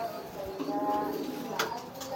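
Brooding pigeons sitting on eggs give soft low coos, faint and close, with a person speaking over them.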